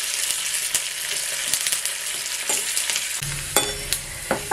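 Dried red chilies and curry leaves fry in hot oil with a steady bright sizzle. A spoon stirs and scrapes through it in scattered clinks, and a fresh burst of crackle comes near the end.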